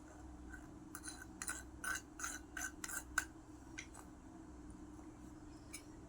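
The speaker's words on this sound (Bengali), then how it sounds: "গ্রেট করে লাউ দিয়ে দিচ্ছি" A bottle gourd is rubbed against a grater in a home kitchen, giving a quick series of short, close rasping strokes, then a few faint scrapes in a quiet room.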